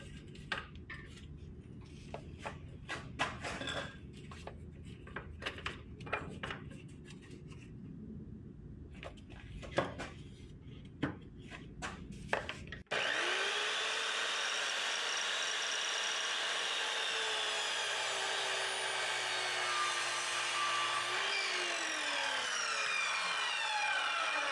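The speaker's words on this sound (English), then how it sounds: "let's just go back to one of these 2x4s real quick, and I want to see what the bevel will do" An Evolution R210CMS metal-cutting miter saw makes a bevel cut through a 2x4, starting with clattery handling noises and then a loud, steady whine of the blade biting through the wood for about ten seconds.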